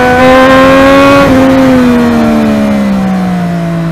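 A Triumph Daytona 675 sport motorcycle ridden through busy city traffic, its engine droning loud and close in a steady tone that dips slightly as it eases off.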